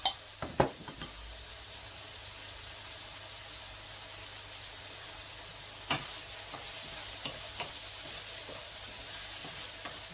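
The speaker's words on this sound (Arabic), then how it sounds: "يتحمر شويه بالزيت" Sausage and vegetables browning in oil in a pan, giving a steady close sizzle with a few sharp clinks and scrapes from stirring near the start and again around the middle.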